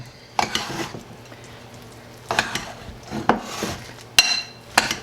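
A spoon scrapes and knocks against a skillet in a few sharp, separate bursts while ketchup is stirred into a bacon cheeseburger mixture, with quiet pauses in between.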